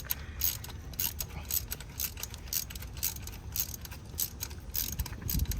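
Ratchet and socket hand-tightening spark plugs on an Infiniti G35/350Z engine during a P0300 random misfire repair, giving a steady run of quick, close metallic clicks that continue throughout.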